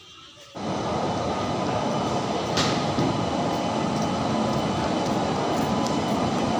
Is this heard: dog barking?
no